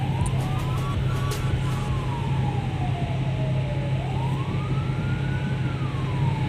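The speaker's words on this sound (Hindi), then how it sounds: "एम्बुलेंस को रास्ता देना चाहिए" Wailing ambulance siren sweeping slowly up and down, heard from inside a vehicle moving through city traffic on a Lahore road toward the Mall Road underpass, steady engine and road rumble beneath it throughout.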